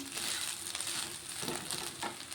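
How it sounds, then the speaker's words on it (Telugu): Cooked rice being stirred and mixed in a pan while making lemon rice, a soft continuous scraping and rustling with a light sizzling texture, close and steady, no talk. "చూడండి ఇలా అన్నం అంతా కలిపేస్తున్నాను"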